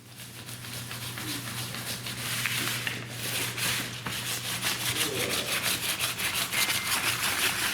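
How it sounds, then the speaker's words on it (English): Someone scrapes an animal hide while it is thinned for a Viking shield, producing a continuous, close rasping rub made of rhythmic strokes and no speech. "I see you're scraping a hide"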